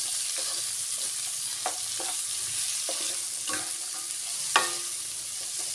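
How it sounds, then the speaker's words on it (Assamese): Radish greens are stir-fried in a hot pan: a steady oily sizzle with a spatula scraping and tossing at irregular intervals, close and fairly quiet, with no voices. "শাকখিনি খুব ভালদৰে মই এইদৰে লৰাই ল'ম।"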